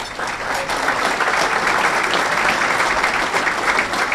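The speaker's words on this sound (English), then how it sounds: "I appreciate a round of applause for the Board of Trustees" Guests at the Westlake Hall of Fame Ceremony dinner applaud the Board of Trustees, a full, steady round of clapping from a large crowd, loud and continuous, with no talk over it.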